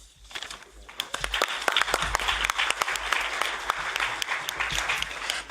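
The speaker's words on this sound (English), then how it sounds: "Maybe some people are sort of clapping," Audience applause at an EU waste legislation conference, a steady crackle of many hands clapping throughout, moderately loud and close, with no speech over it.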